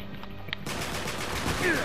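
A burst of rapid automatic gunfire from the video game Uncharted 3, in co-op mode at an airport, starts abruptly after a brief lull and rattles on loudly to the end.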